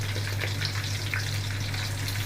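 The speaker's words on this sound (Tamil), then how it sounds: "கடுகு பொரியணும் கடுகு எடுத்துட்டு கருவேப்பிலை போடணும்" Mustard seeds spluttering in hot oil with curry leaves for tamarind rice, a steady close crackling sizzle over a low hum, with no talking.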